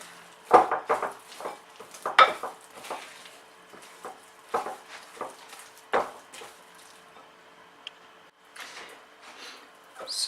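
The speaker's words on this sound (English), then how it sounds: "I like mixing with a wooden spatula as well, because it's a bit stronger, I find. So I'm going to mix that through." Sticky rye sourdough dough stirred in a bowl with a wooden spatula, giving irregular knocks and scrapes against the bowl with pauses between strokes.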